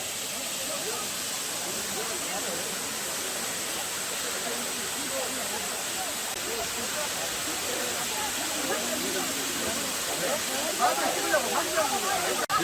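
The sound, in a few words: Buril waterfall on Jirisan, 60 m high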